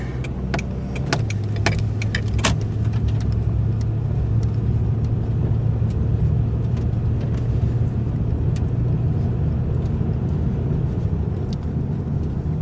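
A 2000 Toyota Camry drives along after an exhaust repair, giving a steady, smooth engine drone with road noise inside the cabin, plus a few faint clicks and rattles early on.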